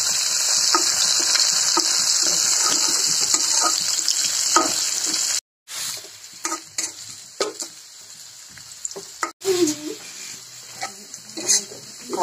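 Bay leaf, two cardamom pods and cinnamon pieces crackle in a hot pan. A strong sizzle fades after about five seconds, leaving scattered clinks and stirring knocks, with a voice talking briefly.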